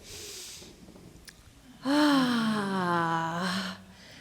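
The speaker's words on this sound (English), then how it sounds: "let's take another deep breath together" People at a gathering take a long, audible deep breath together, heard as a faint intake followed by a drawn-out, wheezy, voiced exhale lasting nearly two seconds.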